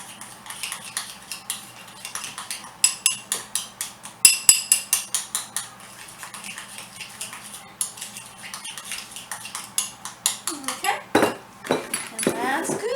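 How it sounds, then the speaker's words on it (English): A spoon stirs macaroni and cheese casserole ingredients in a metal pot, producing rapid rhythmic clanks and scrapes against the sides, loud and close, with a brief pause and then more clattering. "So I'm just going to stir that up."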